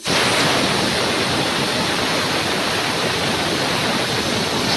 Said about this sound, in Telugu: 3 విజిల్స్ రావాలండి.